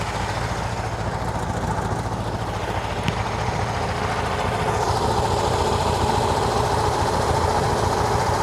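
A 1968 VW Type 3 engine with dual 34 carburetors idles steadily close by, a continuous rough mechanical drone with light valve ticking that grows slightly louder partway through, and no talking.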